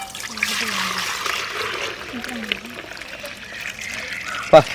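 Cotton seed milk trickles and dribbles out as crushed cotton seeds are squeezed by hand, a light wet stream close by under voices, ending with a brief splash.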